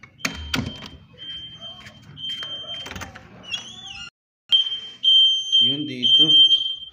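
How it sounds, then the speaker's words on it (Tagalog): A shrill electronic fire alarm beeps in repeated high tones, with people talking and moving nearby, a door sliding, and short bursts of clatter. "So tumunog yung fire alarm natin."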